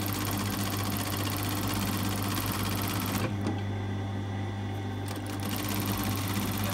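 A sewing machine stitches a quarter-inch seam around the outside edge of a fused collar, running as a steady loud close whir that pauses briefly partway before resuming.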